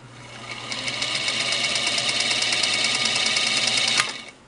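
A Singer 221 Featherweight sewing machine runs after its hook was replaced, giving a steady, fast, close mechanical whir with rhythmic ticking for about four seconds before stopping, with no talking.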